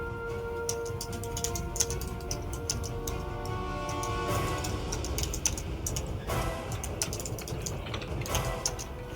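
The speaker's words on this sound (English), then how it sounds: "mute yourself, your keyboard" Steady typing on a computer keyboard during an online tabletop game session, quick irregular key clicks running throughout at moderate volume, close to the microphone.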